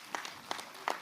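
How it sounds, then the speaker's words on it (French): Council members at an intercommunal council's installation session give themselves a brief, sparse round of applause after their election, a few scattered claps heard faintly at a distance. "Et vous pouvez vous auto-applaudir."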